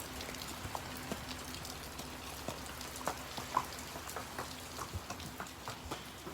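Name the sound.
rain falling at a barn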